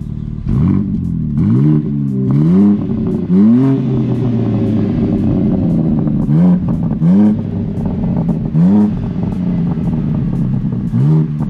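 BMW M3 engine and sport exhaust giving a steady deep rumble, with repeated rev swells rising and falling, heard close and loud throughout without talk.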